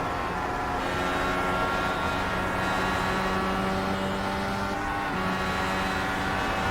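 An IndyCar race car engine in the iRacing simulation, heard from the onboard camera at Phoenix, holds a loud, steady, high-pitched drone with sustained harmonics throughout.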